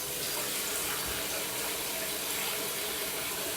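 Water runs steadily from a tap into a pot for chili, a constant, fairly loud gushing hiss with no break and no talking.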